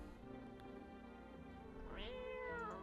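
A cat lets out a drawn-out meow near the end over a background of steady tonal music, fairly quiet and alone without talking.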